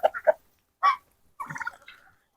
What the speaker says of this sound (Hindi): कहाँ गई और मुर्गियां